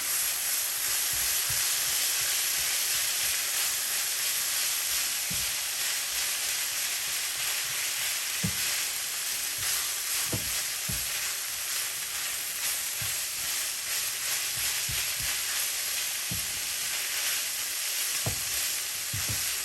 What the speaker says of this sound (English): stir that together and let it cook